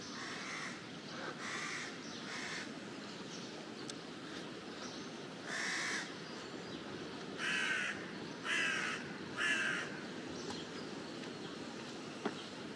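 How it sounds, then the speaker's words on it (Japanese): Crows cawing beside a river in Bern, Switzerland, a few rough calls in short bursts at moderate distance over steady outdoor background noise, with no talking. "でっかい、あれカラスじゃないか。"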